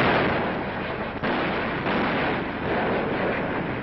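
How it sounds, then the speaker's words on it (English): A captured German 88 mm gun firing shells in wartime hills near Saarbrücken, heard as a dense, loud, roaring blast of boom and rumble on an old noisy recording. "captured Nazi guns now lob shells against their former German masters"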